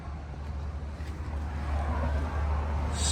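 A Chevrolet squarebody truck with a TBI 350 engine, headers and a freshly run exhaust gives off a steady, low rumbling drone. It sounds moderately close and continuous, with no talking.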